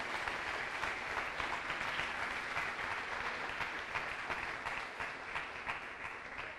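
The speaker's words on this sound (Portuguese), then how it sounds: "daqui nós queremos abençoar e dar a você uma salva de palmas" Church congregation applauding during a service, a continuous wash of many hands clapping at a steady level for several seconds, heard somewhat distant and faint.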